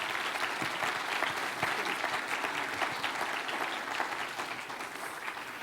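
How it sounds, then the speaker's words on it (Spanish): Sustained applause from an audience at a Spanish-language church talk, dense and steady clapping filling the whole stretch without any talk over it. "Podemos darle un fuerte aplauso una vez más"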